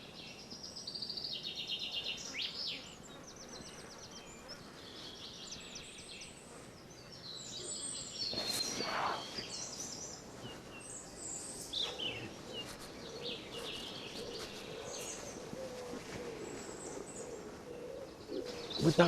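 A nightingale song recording plays from a phone outdoors, with faint, scattered chirps and trilling phrases over a quiet background that persist for most of the stretch.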